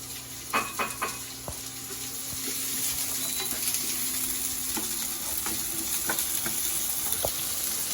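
Onions and chili fry on a low flame for upma, a constant close sizzle with occasional light spatula scrapes and taps against the pan.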